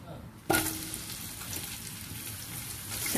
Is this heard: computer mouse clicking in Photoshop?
no